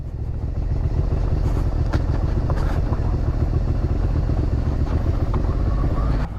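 Suzuki SV650 2017 motorcycle ridden downhill, its engine giving a steady low rumble that stays loud and close throughout, with wind noise over it and no talk.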